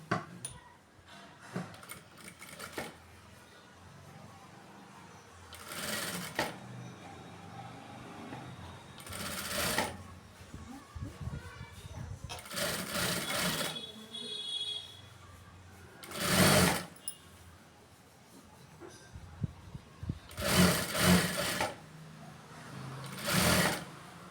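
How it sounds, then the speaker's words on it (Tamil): Domestic sewing machine stitching along the edge of a neckline cross piece on fabric, running in several loud bursts of rapid needle chatter separated by pauses with handling noise; someone talks between the runs. "இதை இப்படி திருப்பிட்டு இந்த ஓரத்தில் தையல் போட்டு எடுத்துக்கலாம் சரியா"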